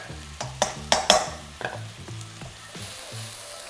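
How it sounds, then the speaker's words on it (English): Raw garlic and onion fry in a pan with a steady sizzle, broken by several sharp clacks of a utensil stirring and scraping against it, close and clear, with no voices. "start frying off all that raw garlic. And onion"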